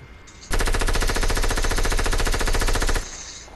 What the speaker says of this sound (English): I think I just got shot at from north.